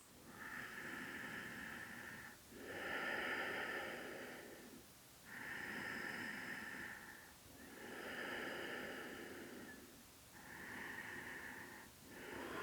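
During a yoga stretch with knees drawn to the chest, a person takes slow, deep breaths, each long airy inhale and exhale sounding close and soft in a steady rhythm without talk.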